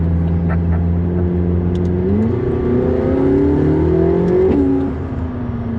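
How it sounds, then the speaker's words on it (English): A McLaren 675LT engine hums steadily nearby, then revs up twice with rising pitch before settling back down. "you can just make the exhaust crack all the time"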